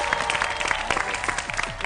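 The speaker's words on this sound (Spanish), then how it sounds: "Fuerte el aplauso, chicos." Studio audience applauding on a television talk show for guest Luis Landriscina, a dense burst of clapping under a loud voice speaking over it.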